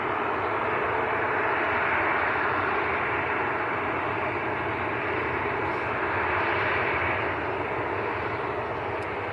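A Jet2 airliner taxis along a taxiway at Manchester Airport, a steady, loud broadband engine roar and whine that holds evenly throughout with no talking.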